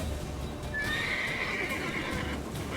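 Geralt's horse Roach in The Witcher 3 whinnies in a drawn-out, wavering neigh that rises and falls over a steady background hum, with hoof clops faint underneath.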